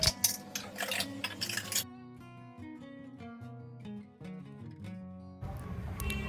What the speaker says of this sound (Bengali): এবার আমার কাজ হচ্ছে এই বাসনগুলোকে রেখে দেওয়া।